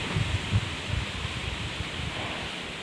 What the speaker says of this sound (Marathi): आणि भरपूर अशी हवा सुटलेली आहे